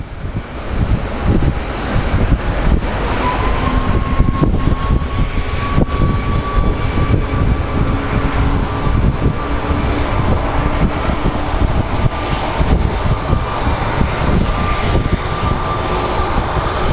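A Southwest airliner departing Sky Harbor airport, its engines roaring loudly and steadily with a rising whine, heard over strong wind buffeting the microphone, no speech.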